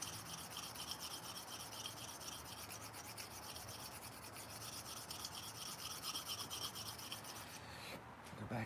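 Hand sanding a surface with fine 2000 grit sandpaper, a steady close-up rubbing rasp that continues without break, alone with no talk.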